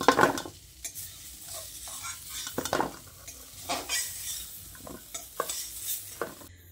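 Drumsticks and potatoes are fried in a pan with a soft sizzle under frequent metallic clinks and scrapes of a spatula stirring and turning them, close and uneven.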